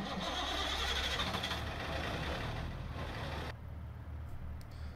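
A Kenworth T800 truck engine in American Truck Simulator turns over and settles into a loud, rough rumble, then drops to a steadier idle near the end.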